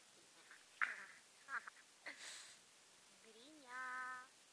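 A domestic goose calls close by at low volume: a few short, sharp squawks, then a longer nasal honk near the end.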